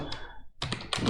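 Computer keyboard typing while entering code during an Angular 17 programming session, with a short burst of keystrokes, a brief pause, then two denser, louder clusters of clicks and thunks close to the mic.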